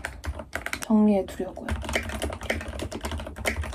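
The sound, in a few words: typing on a computer keyboard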